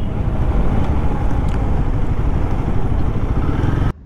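A Royal Enfield Guerrilla 450 motorcycle runs flat out at top speed, a loud, steady engine roar buried in heavy rushing wind buffeting the microphone, cutting off abruptly at the end.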